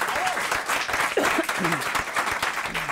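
Television studio audience on a French talk show applauds, a steady crowd of clapping hands with voices talking and exclaiming over it throughout.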